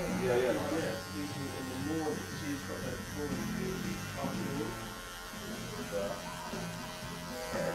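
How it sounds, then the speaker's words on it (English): Electric hair clippers buzz steadily through a clipper-over-comb pass during a skin fade in a barbershop, a constant motorized drone with talk over it. "I'm going to do some clipper overcomb"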